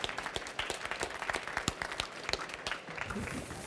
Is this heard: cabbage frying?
no